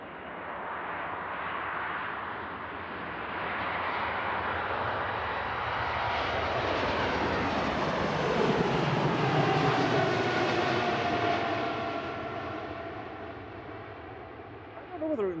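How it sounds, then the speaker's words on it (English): A two-year-old KLM Embraer 195 jet, notably large engines for its size, roars through its takeoff at Manchester Airport, a loud broad engine rumble swelling and sweeping past with rising whine, steady throughout without a break. "There goes the KLM. Embraer 195, 2-year-old aircraft."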